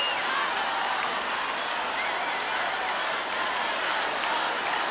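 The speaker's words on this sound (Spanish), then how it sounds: "el público la aplaude" A large crowd at the 2005 Viña del Mar festival in Chile applauds steadily, dense continuous clapping and cheering filling the whole stretch at an even level.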